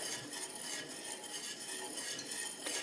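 Glaze for a strawberry pie being stirred in a pot on the stove, a steady soft scraping and light clinking of utensil against the pot that runs continuously at low volume with no voices.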